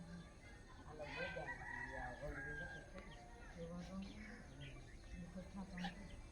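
Chickens cluck and call in a busy farmyard, with a rooster crowing now and then and voices talking underneath.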